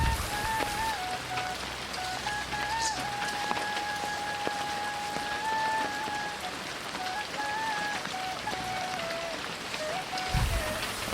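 Steady heavy monsoon rain patters densely and evenly over a village pond, with faint tonal beeps running along in the background and no voices.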